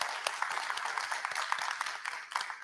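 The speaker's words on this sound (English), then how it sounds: "Let's give the panel a round of applause" A conference audience claps for a panel at the close of a plenary session, a moderate crowd of distinct, irregular handclaps blending into continuous applause that dips briefly near the end.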